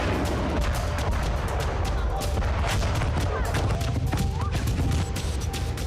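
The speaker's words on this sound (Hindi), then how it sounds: "यूक्रेन को अमेरिका से मिली ATACMS मिसाइलें बरस रही थी।" ATACMS missile strikes exploding on the Crimean coast: a dense, loud run of rapid booming blasts and cracking bangs that overlap one another continuously for several seconds.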